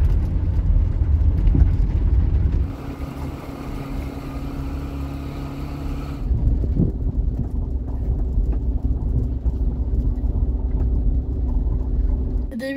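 An 11-year-old at the wheel of a van keeps the engine pulling steadily and loud, a broad low rumble that drops in tone partway through, then rises again as the vehicle keeps accelerating; no voices are heard.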